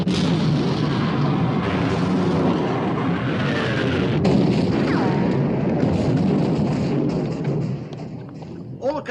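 Naval guns of a battleship engagement in the 1960 war film Sink the Bismarck! roar in a loud, dense, continuous barrage of booms and rumbling blasts that fill the whole stretch, easing slightly near the end.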